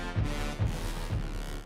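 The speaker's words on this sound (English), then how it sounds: "Pandora Burst, which is free, sounds like this." Pandora Burst, an orchestral sample from Project SAM's free orchestra library: a dense, sustained tone with three heavy low pulses spaced about half a second apart, played alone.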